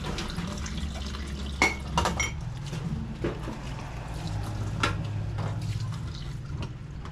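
Dishes and glassware clink and clatter sporadically at an outdoor dish-washing area amid running, dripping water, a few sharp knocks standing out against the quiet background.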